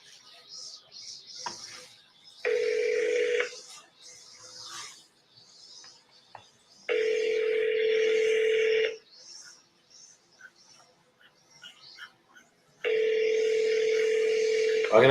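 A house phone ringing on an outgoing call, heard as three long buzzing ring tones spaced by quiet gaps, fairly loud and close, with brief faint sounds between rings.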